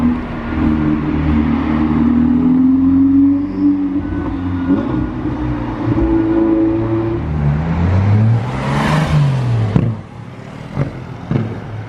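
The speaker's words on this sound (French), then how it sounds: "Ah sympa le bruit au passage de vitesse en brute méca hein" An Audi A1 Quattro passes on a street in Monaco, its engine note climbing loudly and then dropping sharply at a gear change as it pulls away.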